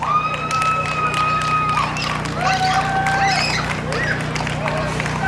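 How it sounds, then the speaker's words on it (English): Audience at a police Night Out Against Crime event applauding and cheering steadily as performers come on stage, with crowd chatter and whistle-like tones over a constant low hum. "Hear that applause?"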